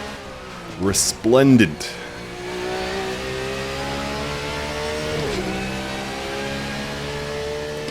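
A GT3 race car revs hard in the Assetto Corsa sim on the Nordschleife, with two loud quick rising bursts early on. It then settles into a steady, droning mid-pitched engine note, and a voice talks briefly at the start.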